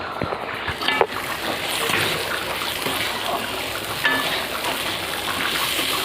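Mung dal frying and being stirred in a hot pan, a steady soft sizzle with scraping and clinking stirring sounds, heard close.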